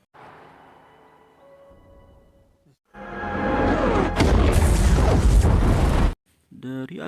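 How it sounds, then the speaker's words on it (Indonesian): A huge film explosion erupts as a drone's rockets strike a missile silo, a sudden loud roaring blast that rumbles for about three seconds after a quieter stretch, then cuts off. "pesawat drone mendekat lalu menembakkan peluru roketnya ke arah silo dan terjadi ledakan yang sangat hebat"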